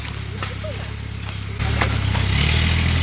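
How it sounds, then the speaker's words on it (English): A farm tractor's engine rumbles steadily at close range, then its throttle opens and the low drone steps up louder and stays raised, with faint voices heard in the background. "Oh, he's throttling up."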